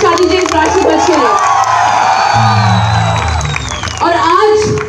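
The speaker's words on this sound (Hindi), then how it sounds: "एक बार जोरदार तालियां बजा दीजिए और एक बार जोरदार शोर मचा दीजिए इस राष्ट्रध्वज के लिए" A crowd at an outdoor national flag event in a Delhi park claps and cheers loudly, with whoops, children shouting and voices mixed into a steady, dense roar that lasts the whole time.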